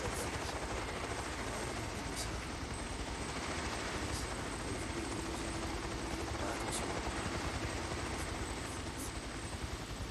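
In the Days Gone video game, a helicopter drones with a steady rotor thrum at moderate distance throughout, with a person talking over it.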